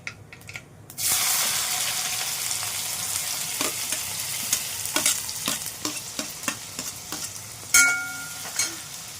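Mustard seeds and a little cumin sizzle in hot oil, a steady loud crackle kicking in after about a second with scattered pops and a louder burst near the end, no voices.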